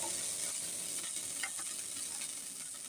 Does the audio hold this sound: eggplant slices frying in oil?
yes